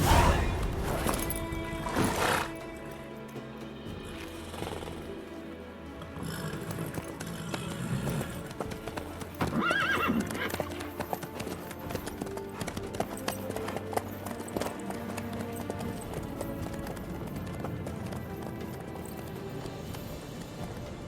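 Hooves clip-clop steadily under a busy game soundscape of music and ambient noise as a horse is ridden in Witcher 3, with a brief whinny and crash-like effects mixed in.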